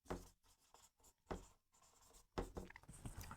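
Marker or chalk scratching on a board in a grammar lecture, several short bursts of writing strokes separated by brief pauses, close and clear with no voice.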